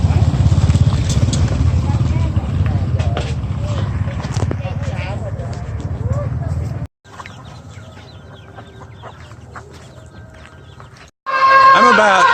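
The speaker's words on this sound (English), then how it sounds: "may also hear there's a rooster crowing" A rooster crows repeatedly in a town street, its calls cutting through loud background music and street ambience, with brief breaks in the sound.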